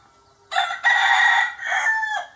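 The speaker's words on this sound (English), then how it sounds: "Yes, rooster." A single rooster crows close by, a loud, drawn-out cock-a-doodle-doo in several bursts rising and sustained before cutting off, alone with no talk.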